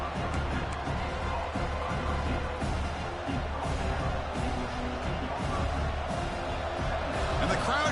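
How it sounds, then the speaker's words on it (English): A football stadium crowd at USC versus Notre Dame roars steadily, a dense wash of cheering with no clear breaks for the full stretch, heard from within the stands. "And the crowd coming to life here"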